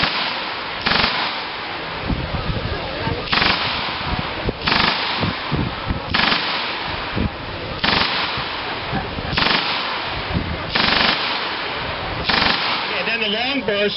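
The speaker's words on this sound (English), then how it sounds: "Long burst, we'll do a long burst and you can see that." A German machine gun fires long, loud bursts of rapid shots at a D-Day Ohio 2017 weapons demonstration, each burst separated by brief pauses, with crackling echoes and crowd murmur underneath.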